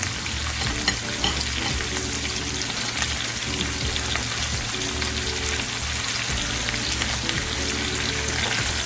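A ribeye steak fries in a pan with half a Scotch bonnet pepper for a Montego Bay-style dish, giving a loud, steady, crackling sizzle with no voices.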